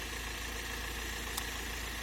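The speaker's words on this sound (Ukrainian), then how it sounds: "Зараз працює мотор." The 2.2-litre 140-horsepower diesel engine of a 2015 Ford Transit nine-seat van idles steadily with a low, even rumble and slight knocking, continuous and close, with no voices.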